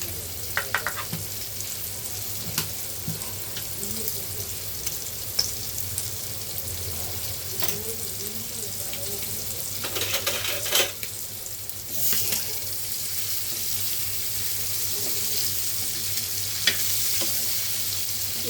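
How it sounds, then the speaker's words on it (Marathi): Prawns sizzle and crackle on a hot griddle, a steady frying hiss broken by occasional scrapes and clinks. "कोलंबी मी फ्राय केलेल्या"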